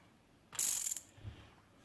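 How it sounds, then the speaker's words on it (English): The handle of a tuned Zebco 33 fishing reel spins freely, giving one brief, smooth, bright whir that fades quickly, followed by a soft low thump. "Look at how that handle just spins."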